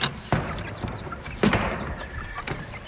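Chickens and roosters, including heritage crosses, cluck and stir in a coop on a poultry farm. The calls are close and fairly loud, with sharp bursts over a steady background of barnyard noise.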